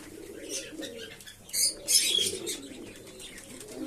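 Pigeons kept at home during feeding time coo and flap their wings in a couple of louder bursts over a steady low cooing murmur, with some soft chirps.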